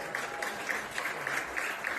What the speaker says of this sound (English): You can hear the applause from the courts next to us.